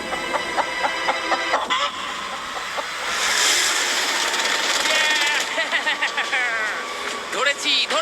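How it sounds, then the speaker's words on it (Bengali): A freshly caught chicken clucks in short, sharp bursts, loudest near the end, while people talk excitedly over it outdoors. "ধরেছি ধরেছি ধরেছি। ম্যাক এটা কি? জিমি, এই দেখো ধরেছি। ও, মুরগিটাকে বেশ ভালো দেখতে কিন্তু।"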